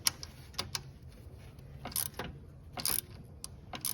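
A small ratchet tightens heavy duty steel bolts on a rear differential being installed on a Yamaha YXZ, producing sparse sharp clicks in short irregular bursts, close and quiet, without speech.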